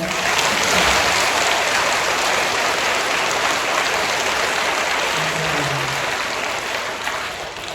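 A congregation at a Catholic charismatic renewal lecture in Jeonju, South Korea, claps steadily for several seconds, a dense, even wash of applause that fades slightly at the end.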